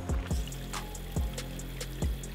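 A garden hose sprays water over a car's windshield treated with Rain-X anti-rain coating, a steady hissing spray broken by several low thumps, with no voices.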